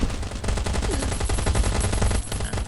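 Rapid bursts of automatic gunfire from the survival shooter game Last Day Rules Survival, loud and continuous, with dense rattling volleys filling the whole stretch.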